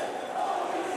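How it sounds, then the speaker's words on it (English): Arena crowd at a HOG High Intensity wrestling event roaring steadily after a springboard drop kick over a ladder, a dense, sustained wash of cheering and yelling that swells slightly toward the end. "The crowd is going crazy here."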